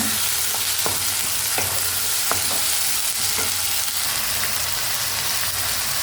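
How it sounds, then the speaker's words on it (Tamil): Tomato and ginger garlic paste sauté in a pan for a meal maker gravy, a continuous sizzle broken by several sharp scraping stirs of a spoon, close and steady. "சேர்த்து இந்த தக்காளியோடய சேர்த்து வதக்கி விட்டுருங்க"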